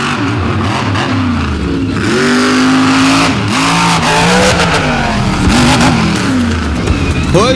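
A big Jeep monster truck engine revs hard at an outlaw monster truck drag race, a loud, close roar whose pitch climbs and dips through repeated throttle surges with no pause.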